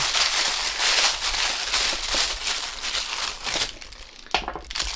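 Continuous crinkling and crackling of a paper bag around an action figure being handled and torn open, close and fairly loud, with a sharper rip near the end.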